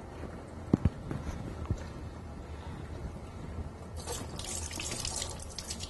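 Water from a tap runs into a baby bath as soap is rinsed off an infant, a steady soft splashing that grows louder and brighter toward the end, with a few faint knocks early on.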